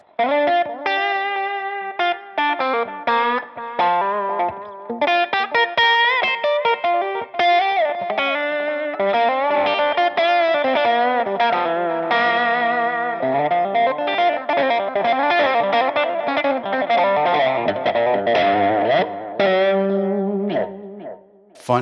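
Distorted electric guitar played through a wah pedal, melodic phrases with sweeping, vowel-like tonal shifts, loud and continuous with a few short pauses.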